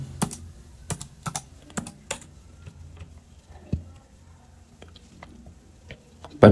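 Typing on a computer keyboard while working in a spreadsheet program: scattered close key clicks, some in quick clusters and others isolated, with quiet gaps between them and no talk.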